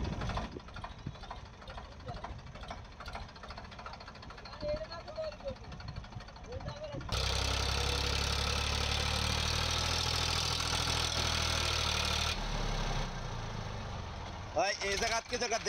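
A lorry engine idles beside a sand boat, a steady low rumble that swells much louder midway as it revs, with people talking and shouting over the clatter of loading.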